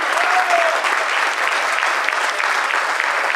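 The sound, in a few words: applause for the theatre group's patron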